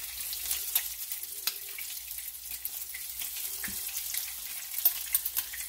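Salmon patties frying in hot oil in a pan, giving a steady close sizzle and crackle with occasional pops, heard alone without talk.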